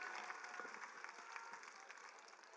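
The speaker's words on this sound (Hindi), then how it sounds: "जोरदार तालियों से इस्तकबाल करें।" Applause from an audience welcoming a speaker at a political gathering on the Waqf amendment, a faint, distant crowd clapping that stays fairly even, with scattered sharper claps standing out.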